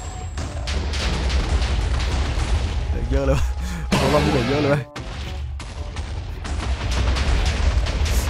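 TNT blasts go off in Minecraft while a house is being demolished, a steady run of loud booming explosions with one big burst in the middle, under continuous excited talking.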